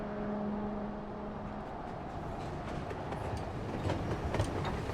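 A train rolls past in the video game Final Fantasy XIV, a steady rumbling clatter of rail cars with a low held tone early on, continuous and fairly close throughout with no talk.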